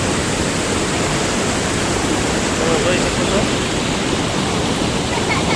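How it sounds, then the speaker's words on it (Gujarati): Water pours over the edge of an overflowing village lake, a loud, constant rushing roar close by, with a brief spoken remark over it. "જો પાણીનો પ્રવાહ જો તમે એકવાર જોઈ લો કેમ આવે છે"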